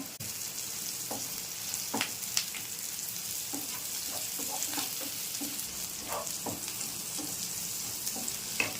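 Sliced onions frying in oil, a continuous sizzling hiss broken by frequent spatula taps and scrapes spread evenly throughout.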